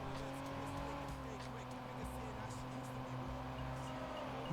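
A car in a racing video game drifts with steady engine drone and tonal hum throughout, continuous and moderately loud, with a voice talking over the game sound.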